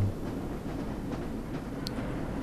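Tram rolling along its track in the video game Black Mesa, a continuous low mechanical rumble with a steady hum and a brief faint high tone partway through.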